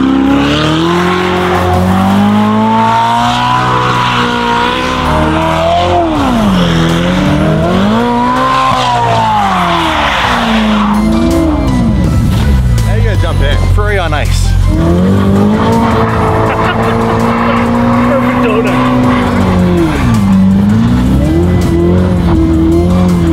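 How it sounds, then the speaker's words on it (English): A Ferrari spins donuts on snow on private property, its engine revving and falling in repeated loud sweeps with tire squeal and skidding, alone and close throughout. "we're gonna do some snow donuts"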